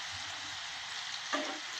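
Okra pakodi fritters frying steadily in hot oil, a dense continuous sizzle with one brief louder crackle near the end.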